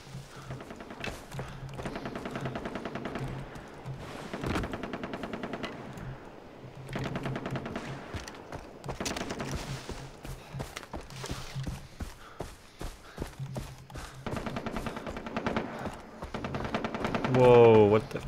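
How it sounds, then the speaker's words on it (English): Far Cry 3 video game gunfire, rapid bursts of shots and thumps repeating throughout, mixed with game effects and someone speaking over it. "What is that, firing?"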